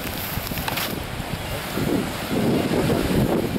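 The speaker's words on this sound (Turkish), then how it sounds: "Evet rüzgar karşıdan esiyor, denizden esiyor arkadaşlar." Wind blows in from the sea onto a Çanakkale shore at Kadırga Bay, a steady roaring buffet on the microphone that swells louder toward the end, with surf rumbling underneath.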